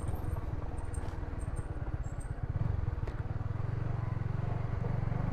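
Motorcycle with a manual clutch rolling along a damaged, rough road, its engine running steadily and loudly, with a throttle blip and a low, continuous throb that swells slightly partway through.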